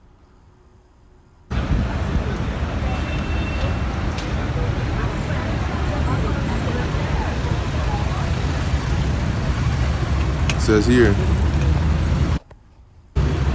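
Slow-moving car traffic in Paris produces a continuous low roadway rumble for most of the stretch, with someone talking over it and brief silences at the start and near the end.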